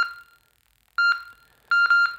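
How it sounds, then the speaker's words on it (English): Roger beep from a Renegade CB radio: a short electronic tone, then two bursts of clipped multi-note beeps after each release of the transmit button, bright and close with nothing else around them. "So that's called the Roger beep."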